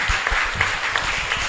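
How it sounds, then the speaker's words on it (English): An audience applauds three speakers after a panel discussion on cosmos and the arts, a brief, dense burst of many hands clapping heard up close for about a second and a half, with no talking. "could we once again give a round of applause to our three speakers today?"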